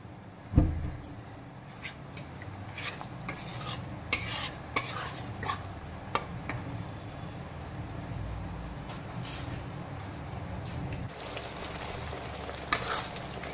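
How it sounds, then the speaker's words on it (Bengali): Onion paste and whisked yogurt being stir-fried in a pan for doi pabda, with a constant sizzle under repeated scraping and clinking of a spatula against the metal, close and busy, no talking. "এখন আবারও 2-3 মিনিট সময় নিয়ে পেঁয়াজ বাটা, দই এগুলো আমি একটু আবারও কষিয়ে নেব"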